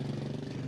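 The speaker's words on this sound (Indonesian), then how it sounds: "Ada motor." Steady mid-pitched rumble of a motorbike engine idling close by on a gravel road in the hills near Pujon, Malang, continuous and fairly loud, no talking.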